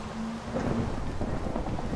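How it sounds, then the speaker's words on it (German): Thunder from a lightning strike in the video game Minecraft rolls through as a steady broad rumble with rain-like hiss, moderately loud and with no voices over it. "Jetzt müsste noch der Blitz hier einschlagen,"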